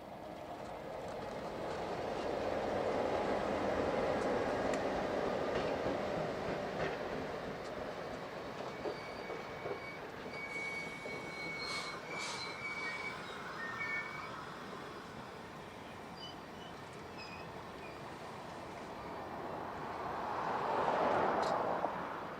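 A Kansas City Southern passenger train led by F units passes by, a steady rumble and clickety-clack of wheels on rail with some metallic squeal, swelling near the start and again toward the end.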